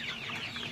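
Fifty-day-old local chickens clucking in a poultry shed, a brief, dense burst of overlapping chirps and clucks at moderate distance.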